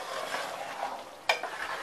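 Mutton and potatoes simmering in a pot in a village kitchen, with a quiet steady bubbling sizzle and one sharp scrape of a spoon stirring; faint and close.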